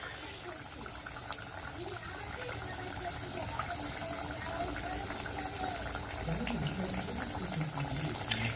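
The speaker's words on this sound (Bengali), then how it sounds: "এবারে কচুরি একটা করে ভেজে নেব" Green-pea kachori frying in hot oil give off a steady, bubbling sizzle that continues throughout at moderate, even volume.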